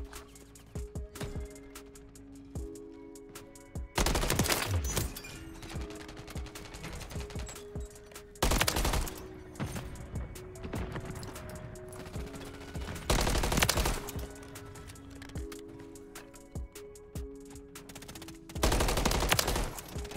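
MCW assault rifle fire in Modern Warfare 3 comes in several loud bursts of rapid automatic shots, spaced apart between quieter game ambience, with little talk.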